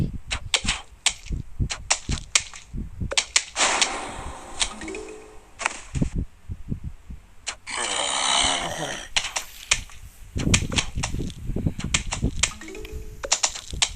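Peashooters firing peas in the video game Plants vs. Zombies make rapid sharp pops and clicks in irregular bursts, mixed with other game effects and a brief voice.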